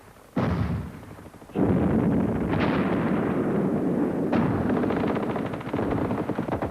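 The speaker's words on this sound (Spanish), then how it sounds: "Estaban disparando a la posición argentina." Machine-gun and rifle fire against an Argentine position in the Malvinas war, archival combat sound; loud sustained bursts begin abruptly and continue densely, with sharp fresh volleys cutting in on top of the steady rattle.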